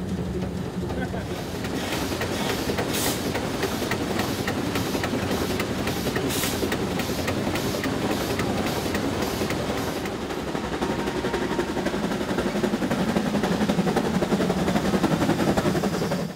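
The Cass Scenic Railroad train runs through West Virginia forests with a steady, loud rumble and a rhythmic clatter of wheels, heard close and continuous throughout, with a voice talking over it.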